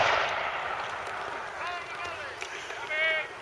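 A period cannon fires a solid iron ball at close range during a Sealed Knot re-enactment, giving one booming report at the start that rolls away and fades while someone talks over the tail.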